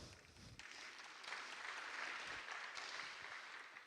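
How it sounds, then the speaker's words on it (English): An audience at the DeepTech Summit 2025 applauds to welcome guests, a steady, dense clapping that holds at an even level for the whole stretch with no voices over it. "So I would like to have you guys applaud and welcome them."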